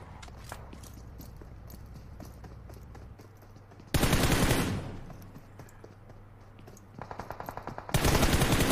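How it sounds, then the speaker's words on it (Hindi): Gunfire in a mobile battle royale game: rapid automatic bursts and sharp single shots, some loud and close, others quieter and distant, with a steady low in-game hum underneath. "मारते रहे, गोलियां मारते रहे"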